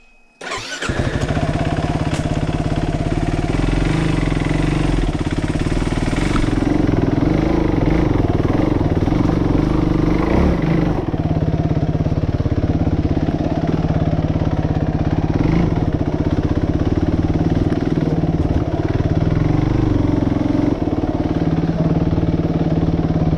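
Suzuki RMX 450Z dirt bike starting up and then running on a hiking trail, its engine loud and close with a steady drone and shifting throttle, no voices.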